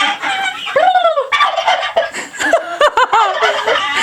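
A single turkey gobbles in rapid, warbling bursts, loud and close, repeating several times over a few seconds.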